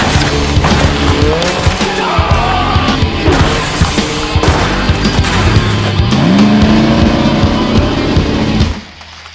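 Racing cars roar loudly in an extreme auto racing game trailer, with engines revving and shifting pitch, tires squealing and skidding, and a crash-like burst before the sound abruptly drops away at the end.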